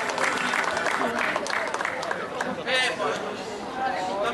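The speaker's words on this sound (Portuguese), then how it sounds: "Palmas para todos e para a organização" Crowd clapping at a 25 de Abril celebration in Ponta Delgada, São Miguel, Azores, applauding everyone and the organizers; a few seconds of applause mixed with chatter and a voice speaking over it.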